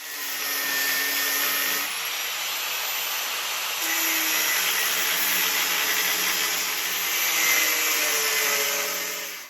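A power tool cuts around the welds of a Yamaha R1 motorcycle frame, following the box sections: a steady, loud, close whining grind that runs almost unbroken, with slight shifts in pitch as the cut moves.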